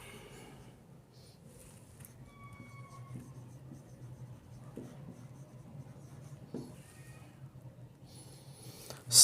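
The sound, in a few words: writing out a maths question by hand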